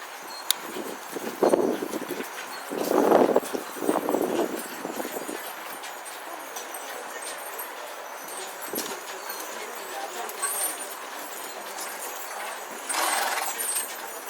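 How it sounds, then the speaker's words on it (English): Heavy horses walk past a grandstand at a steam and vintage machinery show, their hooves clip-clopping in bursts amid crowd murmur and an open-air background, with a commentator's voice over a loudspeaker. "So here they come, ladies and gentlemen, past our grandstand, our heavy horses."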